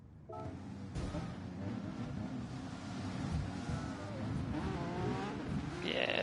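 Race cars in a sim racing game during an online FIA Nations round, engines droning continuously and loudly throughout, with rising revs and a brief high-pitched squeal near the end, no voices.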